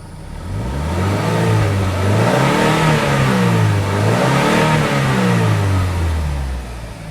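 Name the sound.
sports car engine accelerating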